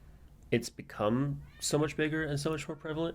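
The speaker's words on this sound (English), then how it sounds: "Sorry if you can hear my cat screaming in the background." A house cat yowls and screams in repeated drawn-out cries close to the microphone, overlapping a person speaking steadily.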